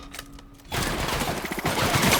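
Sudden burst of gunfire in The Outer Worlds breaks over quieter ambience, a dense loud rattle of rapid shots that keeps going to the end.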